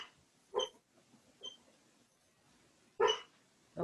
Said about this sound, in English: Okay, I can hear a dog.